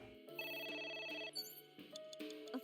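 A phone rings in the video game AI: The Somnium Files, a bright electronic ringtone with sustained tonal notes that shift pitch and pause briefly, heard clearly with no talking.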